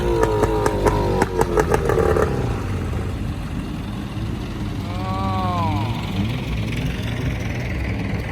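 Boat engine roars steadily while the boat is pulled ashore, a loud continuous rumbling drone with a few sharp rattling bursts early on, outdoors with people talking over it.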